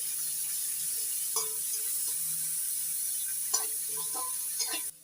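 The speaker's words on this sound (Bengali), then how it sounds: "এবার দিয়ে দিচ্ছি পেঁয়াজ কুচি পেঁয়াজটা পেঁয়াজটা একটু নাড়াচাড়া করে ভেজে নেবো" Chopped onions fry in a pan, a faint steady sizzle under a few light clinks and scrapes of a spatula being stirred, quiet and close, ending abruptly.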